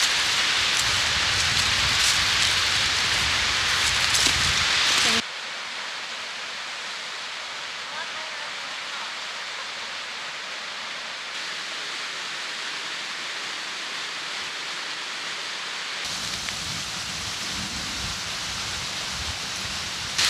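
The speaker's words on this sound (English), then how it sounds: "Hey, there's a waterfall over here." Rushing water of a waterfall at Letchworth in upstate New York in October, a steady broadband roar that drops to a softer wash midway and then swells again.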